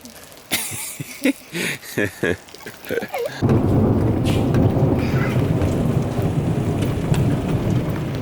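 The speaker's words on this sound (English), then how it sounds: "You catching rain on your tongue, Annie?" Steady heavy rain pours down after a few brief voices and knocks, a continuous dense hiss filling the rest.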